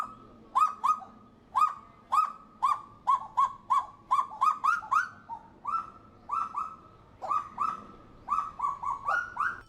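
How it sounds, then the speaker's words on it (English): Kagu birds duetting in a forest, trading a series of rhythmic, hooting, barking calls in short bursts, moderately close and clear over a quiet background. "Kagus make a range of distinct sounds, most commonly while duetting in the morning"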